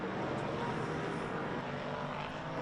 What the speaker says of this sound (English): The drone's getting closer.